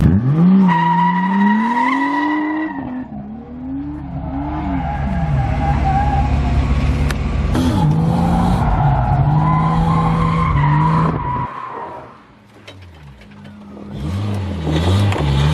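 A BMW E36 drift car skids and spins out, tires squealing in long wavering wails as the engine revs rise and fall, with a brief lull before the screech and engine note return, loud and close.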